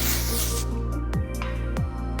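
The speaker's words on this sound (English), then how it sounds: "I'm gonna use our hairspray that we're coming out with soon." Dry texturizing hairspray is sprayed onto hair while styling a low chignon, giving a close, continuous hiss of aerosol spray with a faint rubbing texture over about two seconds.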